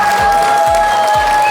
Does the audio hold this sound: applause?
yes